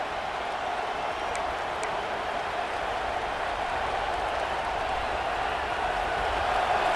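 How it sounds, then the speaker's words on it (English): A steady, distant stadium crowd roar in the EA Sports College Football 26 video game, a broad, even wash of noise that holds for the whole stretch with a faint swell toward the end. "The roar of the crowd trying to fuel this defense to keep them pinned in their own end."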